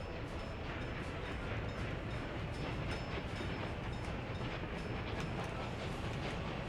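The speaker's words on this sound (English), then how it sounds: "Well, you may start the train." Train running in the Workers and Resources city-building game, a steady rumble with rhythmic clickety-clack of wagons on rails, continuous and fairly loud with no talking.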